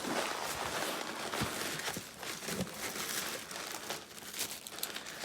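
A small plastic bag crinkles and rustles continuously while a power tool is unboxed, close and steady, with no talking.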